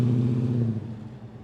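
A V8 Valiant pulls away from a car meet, its engine rumbling loud and close with a deep, steady burble before dropping back slightly as it moves off.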